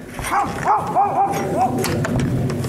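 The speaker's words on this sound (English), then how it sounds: "that's when he hears his dog barking like crazy" A dog lets out a quick run of five or so yelping barks, fairly close, over a rough background noise.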